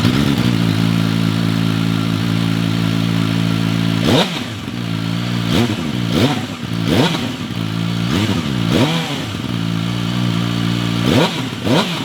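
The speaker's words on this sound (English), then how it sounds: "First of all, the sound when you fire it up, and this is Euro 5 Plus compliant." A QJ Motors SRK 600 RS superbike engine, Euro 5 compliant, idles loud and steady on a track, then is revved repeatedly in sharp throttle blips that rise and fall, with no talking over it.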